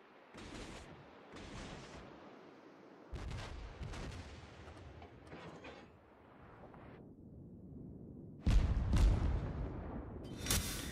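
Heavy naval guns of a Wakatake destroyer firing in the warship game World of Warships, booming blasts in several separate bursts with rumbling between them and the loudest salvo near the end.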